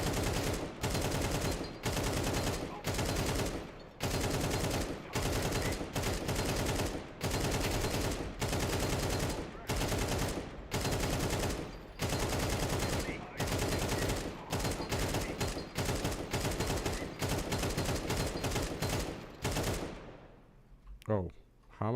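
Bursts of automatic rifle fire from a Counter-Strike match rattle loud and close in long rapid strings, broken by short pauses, before cutting off near the end.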